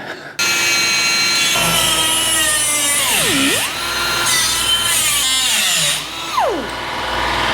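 A high-pitched power tool cuts out a rusted panel on the cab of a 1953 GMC truck, whining loudly with the pitch dipping and recovering as it bites into the metal, running almost continuously.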